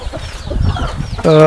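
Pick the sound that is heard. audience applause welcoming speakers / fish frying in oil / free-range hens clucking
free-range hens clucking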